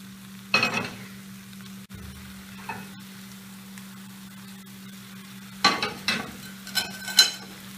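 Chicken with its juices fries in a pan, giving a steady low sizzle throughout with a few brief stirring and scraping clinks from a utensil, close and fairly quiet.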